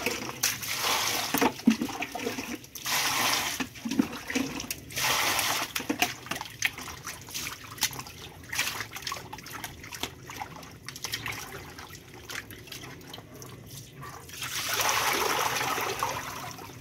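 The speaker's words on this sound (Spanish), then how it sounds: "Vamos a enjuagarlas bien con agua limpia." Chicken feet are rinsed in clean water, with a steady trickling and splashing of running water throughout, louder bursts near the start and end, and no talk over it.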